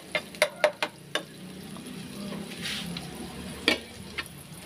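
Pork steak browns in a pan with a soft continuous sizzle, punctuated by several sharp utensil taps and scrapes against the pan, close up.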